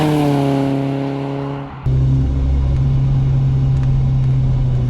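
A BMW E30 M3's four-cylinder engine drones loudly from inside the car while driving, a steady buzzing tone that dips briefly during a gear change and then holds at a strong, even pitch.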